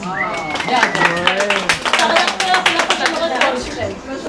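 Audience clapping and cheering at the 2016 Miss New Caledonia pageant, a dense burst of applause under voices that carries steadily through the whole moment.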